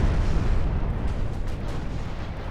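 Heavy 13-inch battleship guns firing in a WW2 naval battle game, Ultimate Admiral: Dreadnoughts, heard as a dense, continuous, loud roaring rumble with no separate shots standing out.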